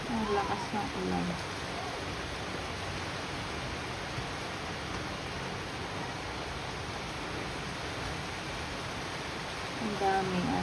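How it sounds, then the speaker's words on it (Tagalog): Heavy rain pours down in a garden, a steady, dense hiss that holds at an even level the whole time, with a few faint sounds from someone moving about nearby and no clear talk. "Ang lakas ng ulan."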